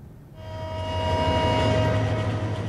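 An intercity train rolls into Dhaka Airport railway station, its low rumble building steadily after a brief quiet start, with a sustained tonal whine riding over the continuous rolling noise.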